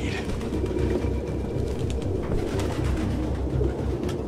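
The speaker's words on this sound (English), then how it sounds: "No human could live with all these fucking pigeons." A flock of pigeons coos continuously in a close, dense murmur in Detroit: Become Human, with a low rumbling background hum underneath and no speech.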